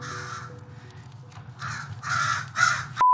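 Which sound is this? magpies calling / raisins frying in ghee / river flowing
magpies calling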